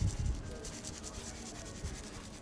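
Dry seasoning rub being worked by hand onto a spatchcocked chicken coated in rapeseed oil, a soft continuous close scratching and rubbing with faint thumps, quiet and without speech.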